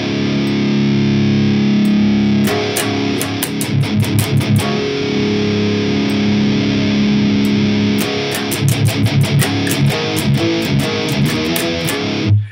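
Heavily distorted electric guitar through an Audio Assault Califer amp simulator: a sustained chord rings, then tight palm-muted chugging riffs with sharp stops, loud and dense, no voices.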